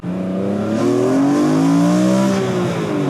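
A BMW E46 M3 inline-six engine in a wagon restomod revs hard and steadily, its smooth, rising drone loud and close for a few seconds with no talking.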